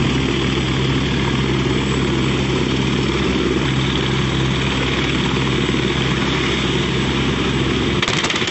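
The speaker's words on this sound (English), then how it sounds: "We can see a helicopter with its propellers swirling at the side of the road" Helicopter rotors spin steadily and loudly nearby with a constant engine drone, cut off abruptly at the end.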